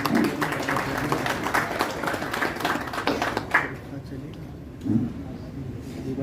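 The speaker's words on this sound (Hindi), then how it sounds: "आप सभी ने बहुत शांति से सुना, तालियां बजाई" Audience applauding after a Hindi poem recitation at a public event, a dense spread of clapping for about three and a half seconds that then thins and stops, leaving a quieter room with a single brief thump.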